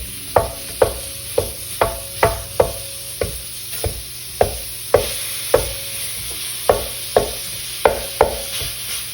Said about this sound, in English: I'm gonna add the ground beef. And we're just gonna break that up and brown it.